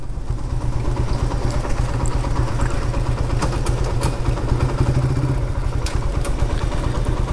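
Motorcycle engines idle steadily with a low, rumbling chug that continues without a break, and faint clatter rises and falls over it.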